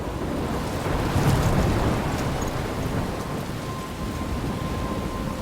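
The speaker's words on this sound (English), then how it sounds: "I'm trapped in a storm?" A steady thunderstorm with heavy rain in the video game Life Is Strange, a dense continuous rush of rainfall with low rumbling thunder swelling briefly near the start, no voices.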